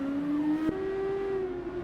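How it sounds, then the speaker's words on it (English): A race car engine pulling out of the pit lane at Silverstone during a full race, holding one loud, sustained droning note that climbs slightly in pitch as it accelerates, heard alone without voices. "can hear the engine already coming out."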